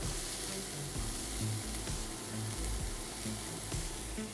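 Finely sliced onion sizzling in preheated oil in a pan: a steady, dense frying hiss with no pauses, close and fairly loud, no voices.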